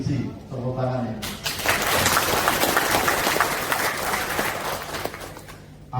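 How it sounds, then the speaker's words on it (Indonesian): A large audience at a national gathering and inauguration ceremony in Indonesia claps steadily for several seconds after a short spoken lead-in, with voices and cheering mixed into the applause. "tepuk tangan ya"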